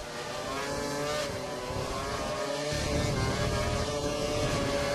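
Formula 1 car engine screaming at full revs in the F1 2012 racing game at the Brazil round, a steady, loud, high-pitched harmonic drone that holds throughout with a slight lift partway.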